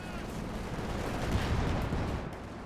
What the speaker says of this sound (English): Panzerwerfer unleashing hell on the advancing riflemen.